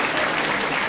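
Audience applause at a live talk about pornography myths, a dense, steady wash of clapping filling the room at full volume, with no speech on top.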